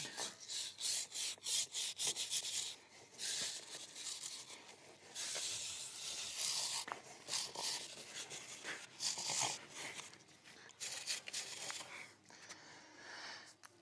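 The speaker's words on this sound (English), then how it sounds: "Move a bit and keep scrubbing." A motorcycle chain is scrubbed with a brush in repeated bursts of close, soft rasping strokes, some quick and rhythmic, with brief pauses between.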